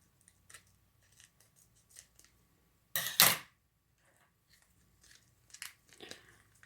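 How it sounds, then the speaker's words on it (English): Scissors snip a small sliver off a sealed plastic package: one loud, crisp crunching cut in the middle, surrounded by faint rustling and small handling noises close by. "I'm going to open and cut that little sliver off."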